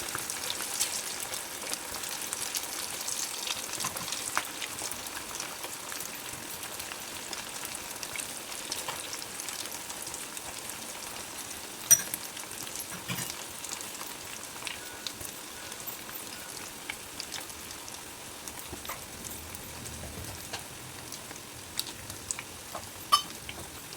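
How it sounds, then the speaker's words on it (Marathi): Fasting bhaji fritters frying in oil, a soft, continuous crackle and sizzle with scattered small pops, at a low level throughout. "आता असं भजी परतायचे पलटून पलटून भाजून घ्यायची"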